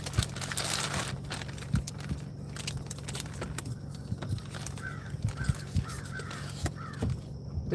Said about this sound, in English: The crows are making a fuss.